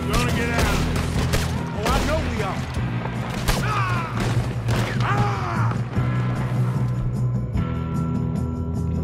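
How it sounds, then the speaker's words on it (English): Repeated gunshots crack out in a fast, chaotic barrage during a train heist scene, mixed with shouting voices and mechanical clatter, loud and close throughout. "Quit shooting, kid!"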